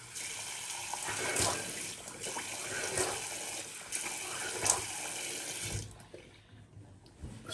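Tap water running steadily into a sink, close and fairly loud, while the face is wetted before a wet shave, the gush stopping near the end with no talk.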